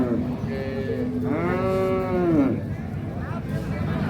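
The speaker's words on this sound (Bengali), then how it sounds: "এখানে একটা গাভী একটা বাছুর" A Holstein Friesian cow, with a calf nearby, gives one drawn-out, rising then falling moo at the Ambari cattle market, close and loud over a steady crowd murmur and background voices.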